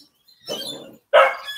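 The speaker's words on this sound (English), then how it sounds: "Oh, that's the neighbor's new puppy." A Kelpie cross puppy gives two short, nearby barks, the second sharper and louder, with no talking.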